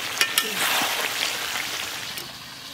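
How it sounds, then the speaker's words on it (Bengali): Fried potatoes and whole garlic cloves drop into a pan of meat curry where the oil has separated. A couple of sharp clatters are followed by a loud, continuous sizzle and hiss that slowly eases. "এখন ভেজে রাখা আলু আর এই গোটা রসুন দিতে বলছে আজকে মাংসে, দিয়ে দিলাম।"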